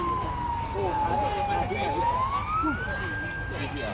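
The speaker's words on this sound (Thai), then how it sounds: "เสียงรถตำรวจ" A police siren wails in the distance at a crash scene where a car hit a high-voltage pole, its tone sliding down and then rising, over a background of traffic rumble.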